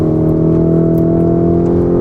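A 2023 Lamborghini Huracan Tecnica sports car accelerating on the Sepang circuit, a loud, steady high-revving engine drone with strong harmonic tones heard from inside, no speech over it.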